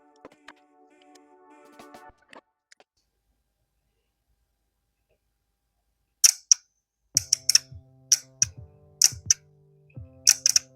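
A relay for the air conditioning on a Mini clicks repeatedly when its feed is put onto the battery positive. The sharp, close clicks come in an irregular series after a quiet pause, over a low steady hum.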